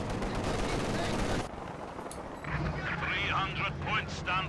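Dense, rapid gunfire from a Company of Heroes 2 strategy game battle, loud sustained bursts of machine gun fire that stop briefly, then resume under a commentator's voice.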